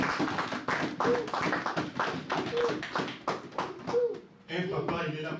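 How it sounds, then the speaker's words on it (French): A church congregation claps together for the glory of Jesus, a close burst of many hands in an uneven rhythm mixed with voices and brief vocal tones before it fades. "Acclamons pour la gloire de Jésus."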